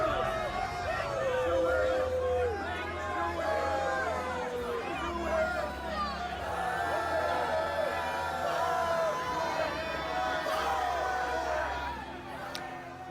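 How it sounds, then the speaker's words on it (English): Angry crowd at a Trump rally in Tampa jeering at reporters, a dense roar of overlapping shouting and chanting voices with occasional whoops, sustained and fairly close throughout. "The crowd was visibly angry at reporters who were there to cover the event and wasn't afraid to show it"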